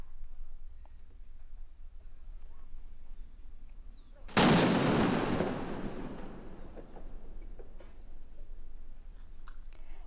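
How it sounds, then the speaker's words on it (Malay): A single booming cannon blast from a ceremonial 21-gun salute in Malaysia's capital, with a long rolling echo that fades slowly, set against quiet outdoor ambience. "21 das tembakan meriam dilepaskan pagi tadi di Ibu Negara"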